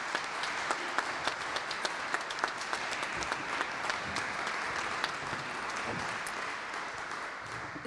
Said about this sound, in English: Ladies and gentlemen, another round of applause for James, Eleanor, Sandra, and Georgia.